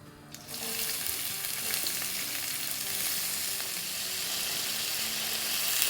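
A large sliced onion hits hot oil with mustard seeds for dal tadka, starting a steady, even sizzle that swells slightly and holds for several seconds, close and moderately quiet, with no voices.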